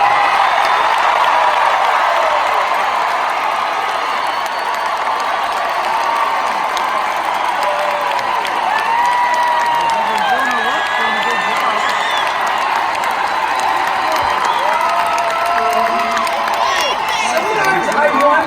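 A large concert crowd at a show in Portland, Oregon, claps and cheers in a dense sustained roar, with whoops rising out of it throughout.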